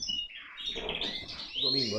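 Caged songbirds prepared for a singing competition, chirping and trilling close by in a short bright burst, with no talk.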